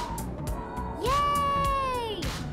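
A cat meows clearly, one drawn-out, rising-then-steady meow up close, with faint tapping sounds in the background.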